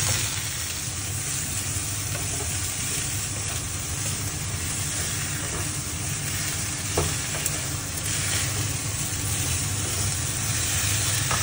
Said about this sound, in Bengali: চিনিগুলো দিয়ে অল্প নুন হলুদ দিয়ে নাড়িয়ে বন্ধ করে রাখবো